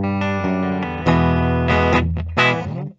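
A 2021 Gibson Adam Jones 1979 Les Paul Custom electric guitar rings out loud and alone through a distorted, effected tone, a few sustained chords struck in sequence before cutting off.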